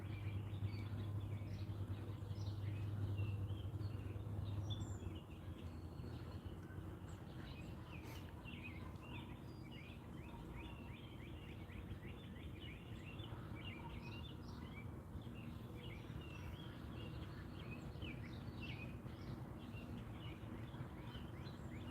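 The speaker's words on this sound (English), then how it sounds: "I don't know if you guys can hear that bird or not," Birds chirp and sing near a fishing spot at Hi Way Springs, with repeated short calls over a quiet outdoor background and a brief low hum at the start.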